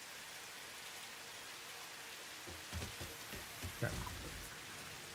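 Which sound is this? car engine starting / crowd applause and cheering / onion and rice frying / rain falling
rain falling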